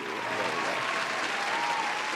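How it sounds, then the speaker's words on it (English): Applause sound effect on a podcast, a dense, continuous wash of crowd clapping at moderate level, steady throughout the short burst with no voices over it. "I got to hit you with a couple claps, too."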